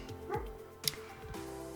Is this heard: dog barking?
yes